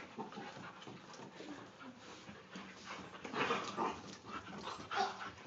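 A dog panting and whimpering up close, with short yips and low growly noises over a steady rustling background.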